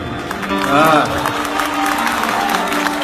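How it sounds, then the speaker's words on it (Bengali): Audience clapping at a concert runs steadily under a prominent singing voice, a broad, continuous patter of many hands at moderate loudness. "আরে জোরে দে হাততালি।"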